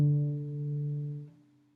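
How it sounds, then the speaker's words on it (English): A single pizzicato note plucked on a string instrument, a sharp attack with a sustained, harmonic-rich ring that holds steady for over a second before decaying, close and clear with no talk. "To do a pizzicato, you're just going to place your finger here,"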